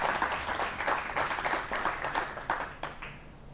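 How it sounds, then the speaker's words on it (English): A room of attendees gives the hosts a round of applause at a political talk in Forney, Texas. The clapping is moderately loud and uneven, and it fades over a few seconds. "how about a big round of applause for our hosts here today?"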